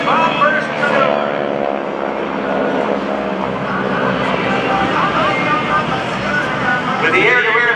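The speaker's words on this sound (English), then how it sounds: "there you see the four-ship bomb burst maneuver" GEICO Skytypers propeller planes fly a four-ship bomb burst at the NAS Oceana airshow, their engines a steady droning roar that swells near the end, while an announcer keeps talking throughout.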